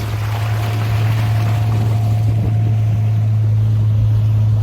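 A small motorboat's engine drones steadily and loudly, with water rushing and splashing against the hull throughout, on the way to Koh Mak island, Thailand.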